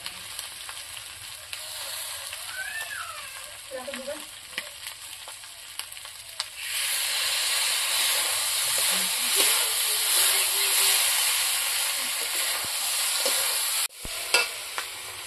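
Country chicken curry frying in a pan with ground garam masala, a steady crackling sizzle with occasional stirring scrapes that grows louder and fuller partway through.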